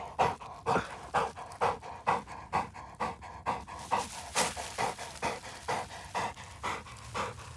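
A dog pants rapidly and rhythmically close by, quick regular breaths continuing throughout with no other sounds.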